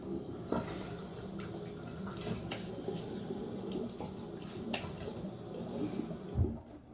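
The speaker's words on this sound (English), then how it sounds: "before I start lathering, I'll do my second face rinse" Water runs from a tap into a sink for a face rinse before shaving, a steady close splashing flow with small drips and splashes, ending in a brief low thump.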